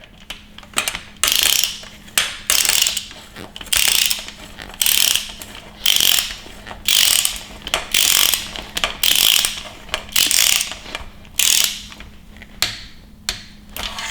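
A large torque wrench ratchets in repeated bursts of sharp, rapid clicking while tightening fasteners on a 5.7L Hemi engine under assembly, each run of clicks separated by brief pauses, close and clear.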